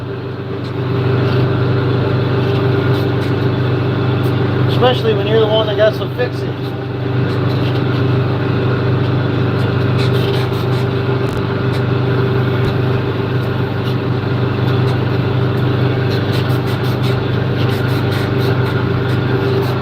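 A 1976 farm tractor engine drones steadily as the tractor drives slowly along, a constant loud rumble throughout with someone talking over it.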